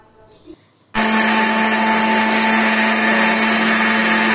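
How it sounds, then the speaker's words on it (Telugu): After a quiet moment, a kitchen mixer grinder suddenly roars to life pulverising almonds into a dry fruit powder for kids, running as a loud, steady, high-pitched whir up close. "బాదం వేసుకొని మిక్సీ పట్టాలి."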